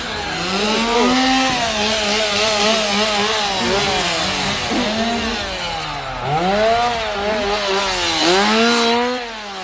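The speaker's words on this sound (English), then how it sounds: "We have chainsaws, it sounds like." Chainsaw engines whine and rev up and down, loud and continuous, one or more saws running nearby, roaming performers at a Halloween haunt event at a theme park.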